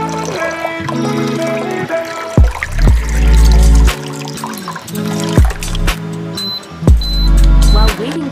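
Water poured into a cooking pot to be boiled, with several separate trickling and splashing pours that stop and start, close and fairly loud, and a few clinks of the pot between them.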